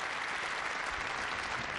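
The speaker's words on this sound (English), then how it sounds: "And the big cheer goes up." A crowd at a bowling quarter-final breaks into a sustained burst of applause and cheering, dense and even throughout.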